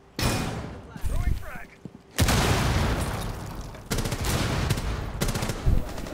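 Sustained gunfire in a competitive video game scrim match, with dense loud rattling volleys that stop and restart, plus occasional booms.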